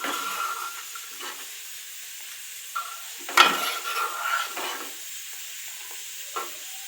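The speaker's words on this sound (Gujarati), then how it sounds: "એમાં ધીમા ગેસે આપણે ઉકળવા દઈશું" Drumstick kadhi sweetened with jaggery simmers over a low gas flame, a soft continuous hiss broken by scattered clinks and scrapes of stirring, one sharper knock near the middle.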